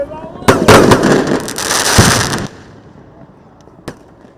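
A fireworks display with shells and cakes launched in sequence: a loud, dense run of crackling bursts for about two seconds, then a fading tail and one last sharp report.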